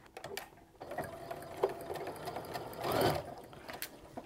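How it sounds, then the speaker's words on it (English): Short close-up whir of a sewing machine stitching quilt rows together with a quarter inch seam, the motor rising and falling with light mechanical ticking. "now we're gonna take and sew these rows together using our standard quarter inch stitch."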